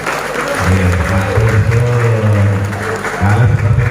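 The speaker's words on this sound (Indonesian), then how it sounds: "Tepuk tangan buat kita semua." An audience applauds at a 2022 village head election campaign dialogue in Rengel, with steady, loud clapping over a humming voice or sound system that continues throughout.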